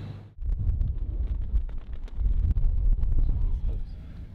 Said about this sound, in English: So the wind is picking up as forecasted